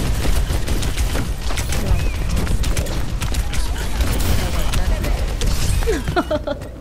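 Rapid gunfire in the video game Overwatch, dense continuous shots and mechanical clatter filling the whole stretch, loud, with a player's voice talking over it.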